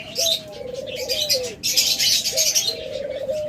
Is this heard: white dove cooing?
yes